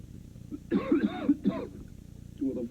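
A man coughs in a cough medicine commercial, a few harsh throat-clearing coughs in a short burst followed by a brief pause and one more cough, close and fairly quiet.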